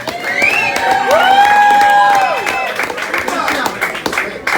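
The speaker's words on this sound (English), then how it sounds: "That's your cue to applause and cheer, people." Audience at a stand-up comedy show cheering and whooping, with loud crowd noise and scattered claps sustained throughout; high shouted voices rise above the general din.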